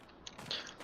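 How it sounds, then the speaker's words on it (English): Quiet close-up chewing and biting, a person munching food with soft crunchy bursts, brief and faint, in a farm setting near a chicken coop. "sorry if you hear me munching in the background"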